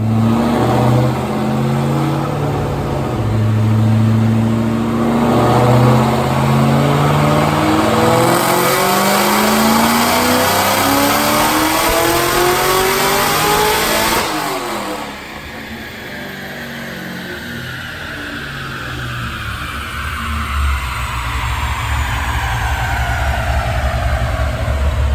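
A 2007 Mustang GT with a Vortech supercharger and air-to-air intercooler accelerates hard on a pull. The engine note climbs steadily through the gears with a rising supercharger whine, loud and close, then drops off as it shifts and settles.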